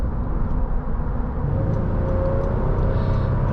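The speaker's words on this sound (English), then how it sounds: "This was a wonderful drive of the 2023 Honda Pilot TrailSport." A 2023 Honda Pilot TrailSport cruising on the highway, steady low engine and road drone with broadband tyre and wind noise, close and continuous with no talk.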